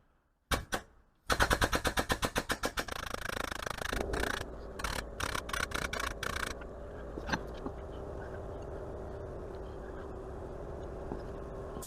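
An air-powered impact tool working on the mill head of a Smithy lathe, mill and drill combo: a few opening bursts, then a rapid rattling hammer run of evenly spaced impacts, then a steady close whir with intermittent clatter.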